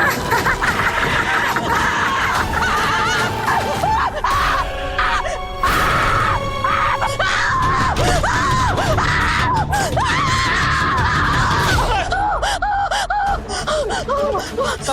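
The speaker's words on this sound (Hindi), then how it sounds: "अम्मा काहे चिल्ला रही हो?" A woman screams and wails loudly and continuously over a dense, busy soundtrack in a Hindi TV serial scene, with other voices crying out around her.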